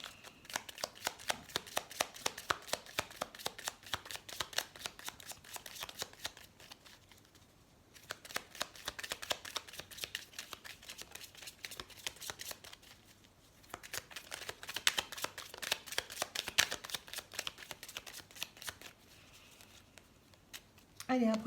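Tarot cards shuffled by hand in repeated bursts of rapid riffling flicks, close and fairly quiet, separated by brief pauses.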